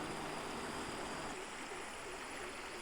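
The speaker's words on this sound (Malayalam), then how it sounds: "നമ്മുടെ വീടിൻ്റെ അടുത്തുള്ള നാട്ടിലുള്ളൊരു പുഴയാണ് കേട്ടോ" Continuous rushing of a flowing river, a steady broad wash with no voices, fairly quiet and even throughout.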